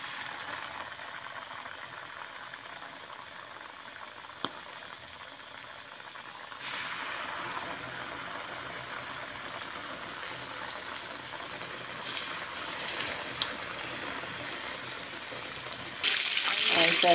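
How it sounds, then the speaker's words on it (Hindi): Chicken pieces frying in hot cooking oil, a steady sizzling hiss that swells louder partway through and again near the end, with a brief clink early on. "अब हम इनको फ्राई कर लेते हैं।"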